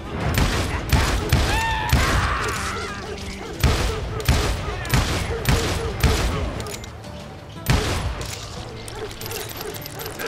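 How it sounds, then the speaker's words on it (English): Heavy gunfire in a video game shootout, repeated loud shots and bursts at irregular intervals, mixed with shouting voices and other game sounds. "Covering fire!"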